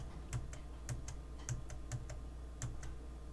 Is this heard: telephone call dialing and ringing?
no